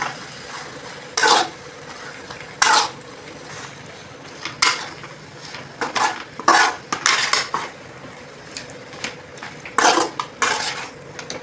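Mint and coriander being sautéed with chicken masala in a pan for chicken kulambu: repeated sharp scraping and clanking strokes of a spoon against the metal pan, irregular and close, over a low sizzle, no talk.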